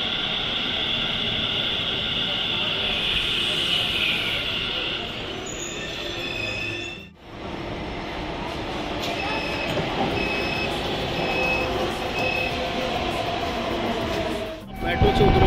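Delhi Metro train pulling into a station, with a steady rumble, rail hiss and faint squealing tones, a brief dip midway, and a voice speaking over it.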